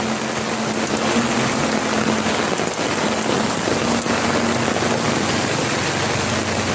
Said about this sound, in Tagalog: Grabe yung ulan dito sa amin, no?